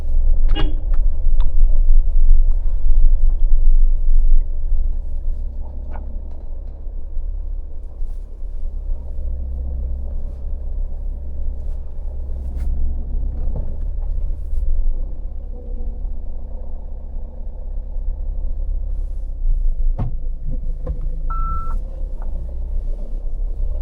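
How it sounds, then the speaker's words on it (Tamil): A Mahindra Thar SUV just after a wheel alignment fix, moving off with a low, smooth engine rumble and road noise heard from inside, plus a few faint horn toots in the distance; no talking. "நம்ம வண்டி அப்படியே கொஞ்சம் மூவ் பண்ணுவோம்"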